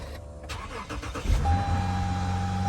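A Lexus GS350 car engine starts and settles into a steady close idle with a sustained hum, after some earlier handling noise.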